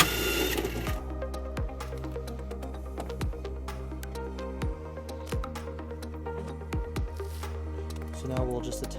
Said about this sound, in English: We're just going to remove that bolt using a 10mm socket.